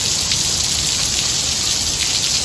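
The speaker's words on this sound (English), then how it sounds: "It's gonna rain, so we gotta get out of here." Steady heavy rain falling outdoors, a dense continuous hiss of drops hitting surfaces, close and loud throughout with no talking.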